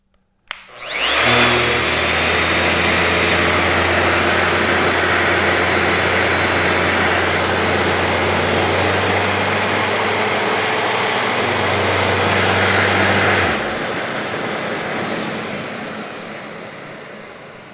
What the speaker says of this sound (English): when we turn the RO90 on, the vacuum will start